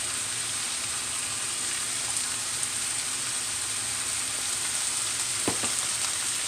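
Spices of allspice and black pepper being stirred into food frying in a pan for Jamaican cooking, a constant bright sizzle with a couple of soft utensil knocks near the end.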